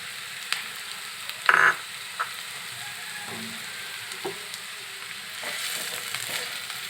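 Ridge gourd and egg frying in a pan while being stirred, a soft steady sizzle with a few sharp spatula scrapes and clinks, one brief louder scrape near the start, close and moderately quiet.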